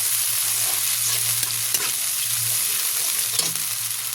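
Garlic paste stirred and fried in a pan, a close steady sizzle with spatula scrapes and clicks against the pan and a faint low hum underneath; no one talks.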